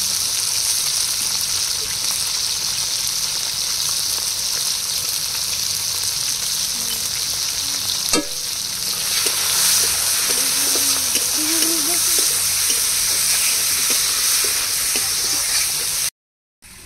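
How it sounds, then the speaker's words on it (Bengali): Green chilies, garlic and chopped onion with salt and turmeric frying in a pan, a loud continuous sizzle with a brief scrape midway and faint stirring afterward, ending abruptly. "কাঁচা লঙ্কা, রসুন, দিয়ে দেবো পেঁয়াজ কুচি, স্বাদ মতো লবণ হলুদ দিয়ে কষিয়ে নেব"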